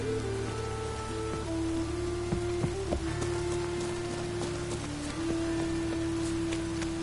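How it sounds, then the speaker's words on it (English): Video game rain hisses and patters steadily without pause, with faint sustained tones running underneath. "It just rains and rains."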